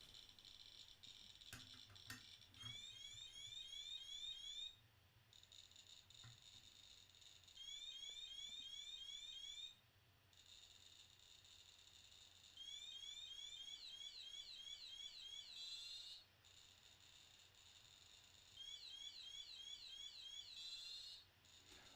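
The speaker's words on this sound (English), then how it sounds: "I haven't heard that alarm. That's even worse than the normal alarm." A radiation detector sounds an unusual alarm held close to a gamma source, repeating in loud rapid warbling bursts of about two to three seconds separated by brief pauses, over a steady background hum.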